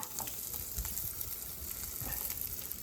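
Mixed peppers for a sauce cooking in a hot pan, giving a steady, close sizzle with a few faint clicks and stirring scrapes throughout.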